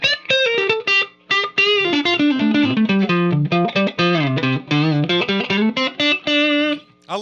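A clean, sustained electric guitar through a custom Hiwatt amp with a Wampler compressor, played up close as a flowing melodic run of notes with brief pauses, heard alone.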